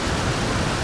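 Water from the Pedernales River rushing through narrow cracks in the rock at a set of falls, a steady, loud broadband roar with no break over the short moment.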